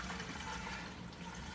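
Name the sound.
pouring coolant into a car radiator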